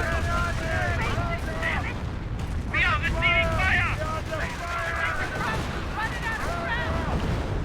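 Calliope rocket artillery barrage in Company of Heroes: a dense, continuous roll of rocket launches and booming impacts. Bursts overlap with no gaps, and a commentator talks over the din throughout.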